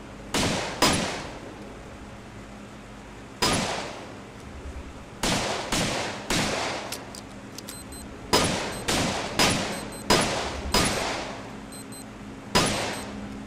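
Gunfire rings out in the VR game Balloon Chair Death Match, with sharp loud shots coming singly and in quick pairs or bursts, each followed by a short decaying echo, all separated by quiet gaps.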